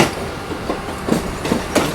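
A Vande Bharat express train running on the rails, with a close, loud rumble and a rhythmic clickety-clack of wheels crossing rail joints, several distinct beats over two seconds.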